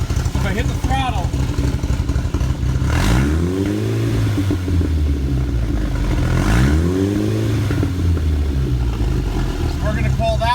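Engine on a car under test with an automotive analyzer on its ignition secondary circuit, revving up twice as the throttle is hit, rising and falling in pitch over a steady idle, loud and close.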